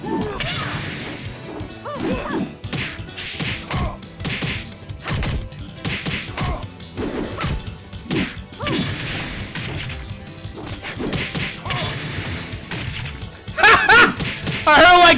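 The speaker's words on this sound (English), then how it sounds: "I heard like a tiny bit of glass break. That must have been the ground, like the wall break." In Virtua Fighter 5, a fighter hits a wall break and glass smashes in a short, bright crash near the end, amid busy fight sounds and a person talking over the game.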